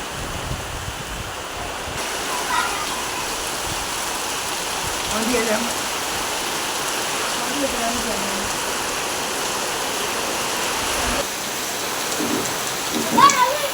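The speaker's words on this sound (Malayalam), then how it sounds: "ഇപ്പോൾ പുറത്ത് നല്ല മഴ നടക്കുകയാണ്" Steady, dense rain drums on a tarpaulin overhead, a constant hiss with no pauses and a few faint voices underneath.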